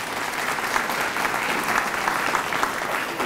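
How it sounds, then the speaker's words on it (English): A crowd at a community State of the Cities event applauds the North Farmington High School Choir, dense steady clapping filling the room evenly throughout, with no voices standing out. "one more round of applause for the North Farmington High School Choir"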